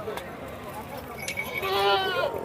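Sheep bleat at a busy livestock market. A wavering bleat rises clearly near the end, set against crowd noise and people talking close by.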